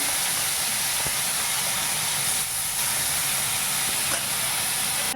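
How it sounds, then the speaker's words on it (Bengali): Small fish rubbed with salt and turmeric fry crisply in a pan, a loud, steady hissing sizzle with a few faint pops, close up and without talk. "মাছটা এখন সুন্দর করে কড়া করে ভেজে নেব"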